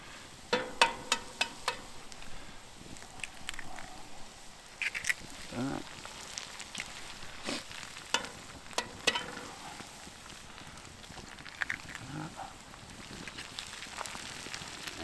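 Eggs fry gently in a circa 1935 Wagner Ware cast iron skillet at moderate heat, a soft low crackle and sizzle with scattered pops and utensil taps, faint and close.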